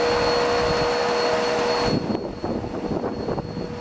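A Bissell PowerForce Zero vacuum cleaner with a clogged suction path runs with a steady loud whine and a sharp tone, then cuts to a lower rougher drone partway through.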